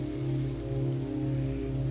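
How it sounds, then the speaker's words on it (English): Steady rain, with wind outside, pours in a dense, even hiss over a low, constant hum, with no pauses. "you hardly want to go back out in all that wind and rain, do you? I can hear it all the way back here."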